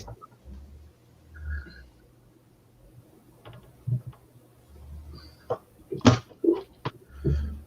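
A small screw being threaded onto a nut for a Terminator model build, with faint fiddly clicks and a few sharp ticks and taps near the end, close and quiet with low background hum.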